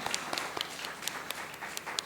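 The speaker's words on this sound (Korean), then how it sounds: "우리 박수로 우리 최인재 집사님 임명하겠습니다." A church congregation claps together during a Sunday morning service, a brief burst of fairly even, moderately loud applause with individual sharp claps standing out.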